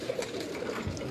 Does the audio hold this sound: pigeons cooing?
yes